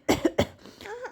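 A woman coughs in a family home, two or three quick, fairly quiet bursts in a row, followed by a brief soft vocal sound.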